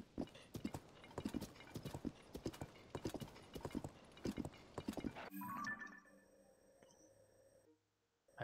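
Horse hooves clip-clop in a steady quick rhythm in The Legend of Zelda: Tears of the Kingdom, then stop abruptly, leaving faint tones and near silence.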